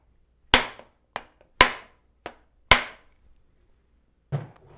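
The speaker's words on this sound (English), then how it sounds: "Get yourself a hammer. And, you know, a mallet's better, but hit that" Hammer striking a bicycle fork crown race to seat it, five sharp metallic blows in an uneven rhythm, close and loud, followed by a sixth softer knock after a pause.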